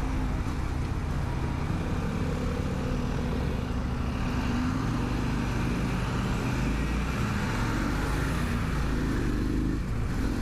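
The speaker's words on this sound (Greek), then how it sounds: "Μπλέξαμε με τα λεωφορεία, μπλέξαμε." Heavy road traffic with large buses and other vehicles rumbling close by, a dense steady engine drone with some revving throughout, no voices.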